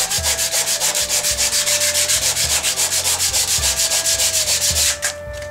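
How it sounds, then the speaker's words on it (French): A small shim scrapes excess glue off a laminated fibre piece in fast, even, loud strokes close up, repeating steadily before stopping near the end. "ce que je vais faire maintenant, c'est prendre une petite cale et puis enlever tout le surplus"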